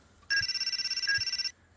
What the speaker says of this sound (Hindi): फोन बजा हिमांशु।